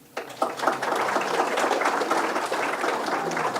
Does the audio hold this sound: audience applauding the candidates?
yes